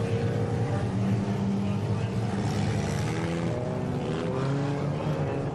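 Bomber class race cars on a dirt oval roar together as the bunched field heads to a green flag restart in an A-main, a steady, loud layered engine drone with shifting pitch from several cars at once.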